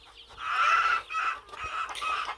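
Backyard chickens just let out of their secure coop cluck in several loud, close bursts separated by short pauses, with no talk over them.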